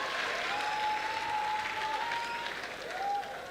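An audience at a Kinyarwanda stand-up comedy show bursts into steady, sustained applause, fairly distant and soft, with a faint whistle-like tone riding over the clapping.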